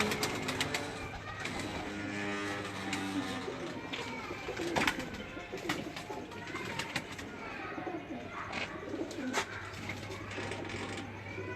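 Breeder pigeons coo repeatedly in a low, rolling murmur, with several birds calling close by against a busy background of clatter and faint voices.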